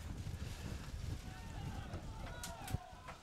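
Wind buffets the microphone with a constant rumbling roar outdoors at a men's Premier Division hockey match during hail, with faint sharp knocks near the end, and no clear speech.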